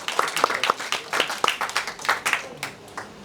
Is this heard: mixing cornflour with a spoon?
no